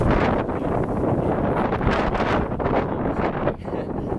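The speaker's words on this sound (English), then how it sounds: "It's so windy out here in Santa Ana, California." Gusty wind in Santa Ana, California roars steadily against the microphone, a loud, unbroken rumble with slight fluctuations and no voices.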